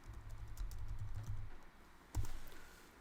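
Computer keyboard typing while a folder is renamed in media software, a dense run of close, soft key clicks, a pause, then a short louder burst of taps; no talking.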